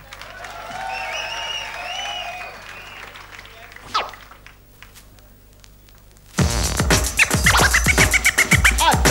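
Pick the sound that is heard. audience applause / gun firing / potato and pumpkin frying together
audience applause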